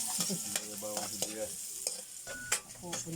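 Garlic is stirred in a hot pan, with scraping strokes and clinks over a soft background sizzle, close and fairly quiet, without talk.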